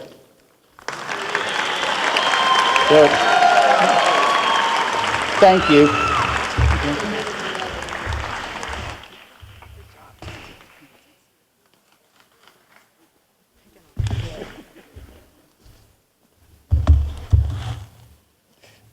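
An audience at a formal school board meeting applauds students with steady, loud clapping for about eight seconds. A few brief remarks are then spoken over a quiet room, followed by short bursts of noise.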